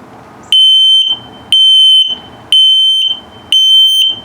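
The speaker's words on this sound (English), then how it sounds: "And then your low battery alarm" Close and loud, a detector's low battery alarm inside a 2022 Starcraft Autumn Ridge 19BH RV sounds four evenly spaced, high-pitched electronic beeps, each held for about half a second, separated by brief pauses.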